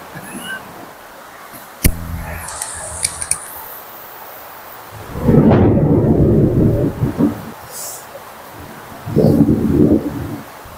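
Thunderstorm with heavy rain at night: a sharp crack near the start, then deep rolling thunder rumbles swelling twice over steady rain hiss, loud and close with no voices.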